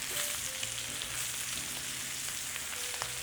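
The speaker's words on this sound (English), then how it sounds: "make sure you are searing on all sides" Lamb chops sear in a hot pan with an even, close sizzle and scattered small pops of spattering fat.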